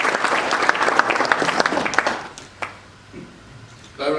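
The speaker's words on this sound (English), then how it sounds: "I think that deserves an applause" A crowd applauding steadily for a couple of seconds, the clapping fading out into a quiet room before a brief rustle at the end.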